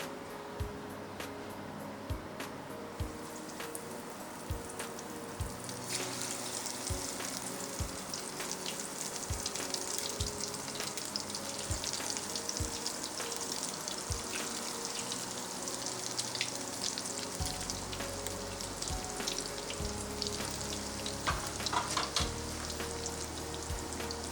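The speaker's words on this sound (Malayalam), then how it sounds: "പാത്രത്തിൽ എണ്ണ ഒഴിച്ച് എണ്ണ ചൂടാകുമ്പോഴേക്ക് ഈ കട്ട്ലറ്റ് ഓരോന്നിട്ട് വറുത്തു പോരാം" Beef cutlets frying one by one in hot oil, a continuous crackling sizzle that grows busier as pieces go in, with regular knocks early on and occasional clatter, close and without speech.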